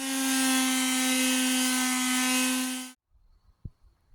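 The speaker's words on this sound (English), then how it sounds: "So, I'm going to get to sanding and be right back." Steady power sander working primer on the hood of a 2000 Lincoln Town Car, a loud continuous whine with a strong hum running for about three seconds, then cutting off abruptly into quiet handling noises and a soft thump.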